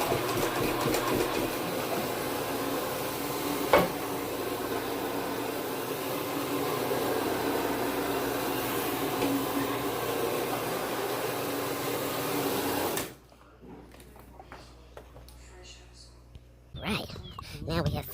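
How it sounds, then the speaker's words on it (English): Vacuum cleaner running over a dirty carpet, a loud steady roaring drone close by for most of the stretch, then cutting off abruptly, leaving quieter rustling and handling noises. "Then we did the vacuum, of course."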